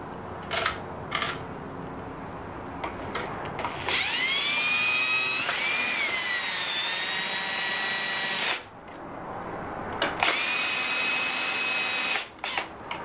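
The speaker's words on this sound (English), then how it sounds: "insert the two longer self-tapping screws underneath the rear feet." Power drill driving self-tapping screws into a metal PortaHolder, two loud whirring bursts with rising pitch, the first about four seconds long and the second shorter, with faint clicks between and no talking.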